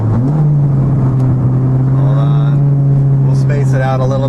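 A Honda Prelude's engine revs hard while accelerating into VTEC, a loud, steady engine tone that climbs early and holds strong, with voices over it near the end.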